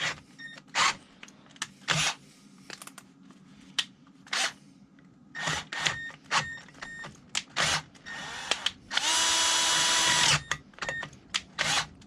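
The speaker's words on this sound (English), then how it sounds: "These are drill bits that, the problem is they're so good, they're very bitey in aluminium." A power drill bores into a seized exhaust stud in an aluminium engine, running in short repeated bursts with pauses between, then one longer steady run near the end; the whirring is close and loud with no talking.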